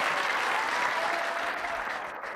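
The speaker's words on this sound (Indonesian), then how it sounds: "Oke, beri tepuk tangan untuk Benigno." A studio audience at an Indonesian TV talk show applauds for a guest named Benigno, a steady, even burst of clapping that holds at full strength for a couple of seconds.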